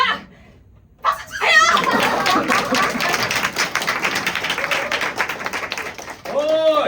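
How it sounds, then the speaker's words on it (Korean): A theater audience breaks into a dense, steady round of clapping that starts abruptly after a moment of near silence and holds for several seconds, with a voice rising at the end. "박수"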